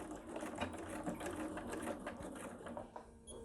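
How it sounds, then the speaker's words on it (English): A sewing machine stitches steadily through both layers of a wallet strap near a swivel hook, a rapid close-up mechanical chatter that runs without pause. "we're going to sew a line as close to the swivel hook as we can between both layers of the strap"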